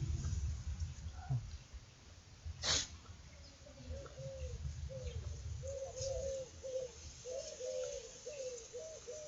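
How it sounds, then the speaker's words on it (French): A turtle dove coos several times in a soft, rhythmic series, moderately distant, with a brief sneeze-like burst and low rumble earlier in the clip. "Un tourterelle."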